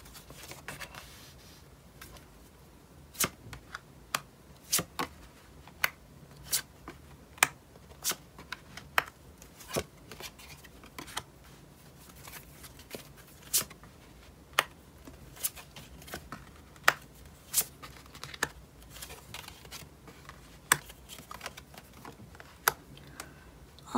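Tarot cards are laid out one by one on a table, giving crisp, sharp taps at irregular intervals over a quiet background, with no voices.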